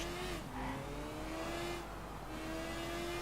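A video game motorcycle engine in Sleeping Dogs drones steadily up close, its pitch climbing slightly as it speeds along, with no voices.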